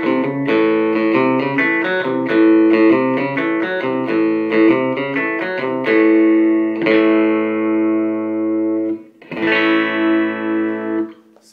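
A Nolan Telecaster electric guitar plays through a Fender Princeton 112 amp on the first pickup selector position without reverb, with a run of quick picked notes and then long ringing chords, close and fairly loud.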